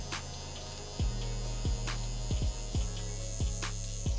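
Electric hair clippers buzz steadily at close range as they cut hair for a high taper fade, with repeated short strokes adding brief clicks and thumps over the drone.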